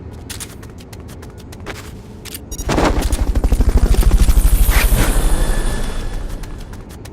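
A helicopter in the video game Metal Gear Solid Peace Walker throbs with loud, rapid rotor chopping that swells in after a few clicking ticks, holding steady before slowly fading.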